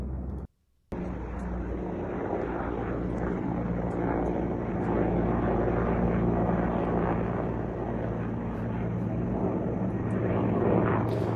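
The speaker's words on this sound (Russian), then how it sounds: "Окей, звуки вертолетов." Helicopters heard over a city during a broadcast, a continuous droning rotor and engine roar filling the whole stretch after a brief dropout at the start, steady and fairly distant.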